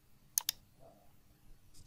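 Two quick, crisp mouse clicks in close succession, like a double-click, near and clear over a quiet background, with a faint extra tick at the end.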